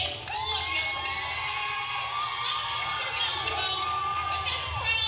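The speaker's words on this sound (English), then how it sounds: "The crowd just erupted." A large election-night crowd in Grant Park, Chicago, after Obama was announced president, cheers, whoops and yells in a dense, continuous roar, with shrill young voices rising above the mass.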